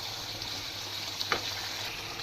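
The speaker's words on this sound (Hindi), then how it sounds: "तकरीबन 15 मिनट इसको जो है ना मैं भूनूंगी" Mutton masala being fried in oil in a handi pot, a soft continuous sizzle with faint stirring scrapes, heard alone without talk.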